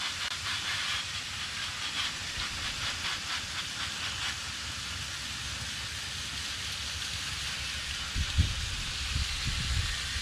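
A garden hose sprays water onto the coil of a central air condenser, giving a steady, fairly faint hiss that runs throughout, with a couple of soft bumps near the end.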